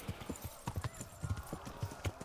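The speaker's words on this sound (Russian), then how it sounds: "Верховая езда." Rhythmic hoofbeats of a galloping horse in the medieval role-playing game Kingdom Come: Deliverance, a steady run of heavy clip-clop thuds with a faint whinny, close and fairly loud.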